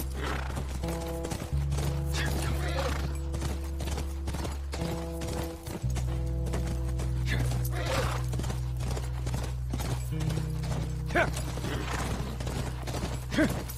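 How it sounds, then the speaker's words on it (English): Horse hooves clip-clop in a steady, rapid rhythm inside the video game The Last of Us Remastered, with a whinny and mechanical clatter over a low sustained music bed, close and continuous without voices. "That's our horse."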